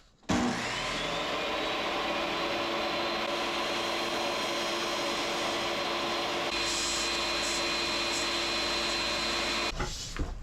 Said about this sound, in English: take a few nicks out of it with the circular saw, the table saw, and make a little slot